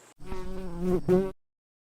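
Hornets buzz around beehives at an apiary, a close, loud, droning hum that lasts about a second, breaks briefly, then swells again before cutting off.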